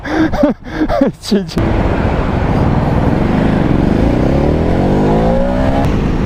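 A Ducati Hypermotard 950 motorcycle engine revs up steadily with rising pitch, loud and close, after a short burst of talk at the start.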